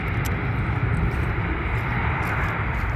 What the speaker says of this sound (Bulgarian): Ето си хора, излита, ето си самолет Turkish Airlines.